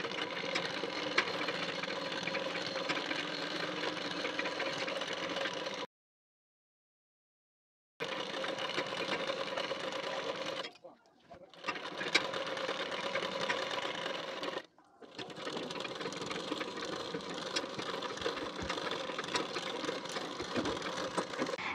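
A sewing machine runs steadily, top-stitching the side seam of patiala pants, in long continuous whirring runs broken by one clear full stop and two brief dips, close and loud, with no voices.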